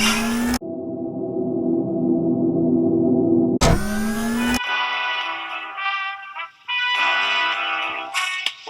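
A cartoon kitty car's engine runs rough with a steady buzzing drone that cuts off abruptly, followed by a short burst and then sputtering, uneven revving with dropouts, loud and close with no talk.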